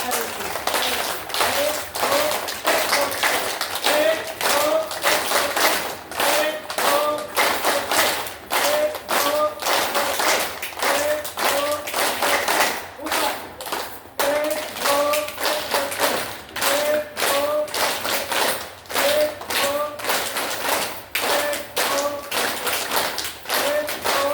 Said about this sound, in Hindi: ताली जब भी जरूरत पड़े तो कस के बजाया करिए